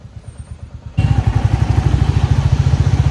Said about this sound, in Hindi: थम्पी इंजन मिलते तुम्हें, इतना अच्छा बाइक आवाज़ प्रोड्यूस करती है